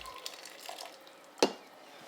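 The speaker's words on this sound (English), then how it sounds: "We're going to rinse the Aeropress filter." Hot water off the boil is poured over a paper Aeropress filter to rinse it, giving a soft trickle of liquid with a single sharper splash partway through.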